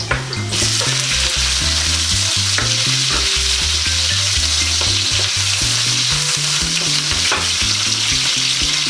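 Onions go into hot oil where garlic has already fried golden brown, giving a loud, steady sizzle with stirring clatter for escabeche fish, and no voices are heard.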